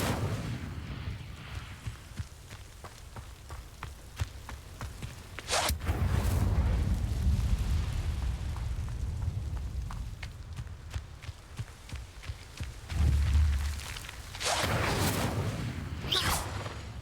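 Fire spell bursts from Hogwarts Legacy gameplay, several loud whooshing blasts with rumbling low-end swells, set among scattered thuds, footsteps and combat clatter, with no talking.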